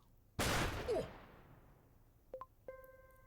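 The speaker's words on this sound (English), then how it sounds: "Shotgun blast." A single booming shotgun blast in the video game Empire of Sin, loud and decaying over about half a second, followed by faint electronic interface tones.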